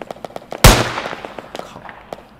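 A single loud, close gunshot bursts out in a pixel-art horror game, followed by a decaying rumble and a series of light, rapid clicks and taps; no voice is heard.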